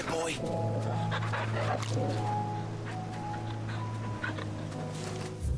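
A dog in Final Fantasy XVI whimpers and yips softly while being petted, its small vocal sounds running over steady game music and ambience.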